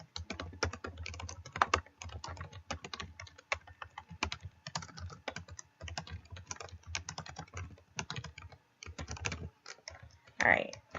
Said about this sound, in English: you just, type what your problem is down here and click submit.